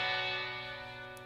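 Electric guitar through a stereo delay set to quarter notes on one side and dotted eighths on the other, with a low mix left and a high mix right, a sustained distorted tone ringing and slowly fading alone.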